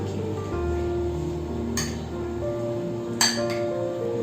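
A spoon clinks against a bowl while chaat ingredients are mixed for raj kachori; a couple of sharp, bright clinks over a low steady background hum, close by, with no talking.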